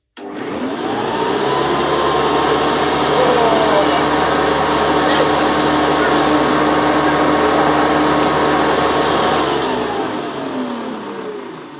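A Hoover Convertible U4173 upright vacuum cleaner starts up, runs with a loud steady whine and roar, then begins winding down at the end.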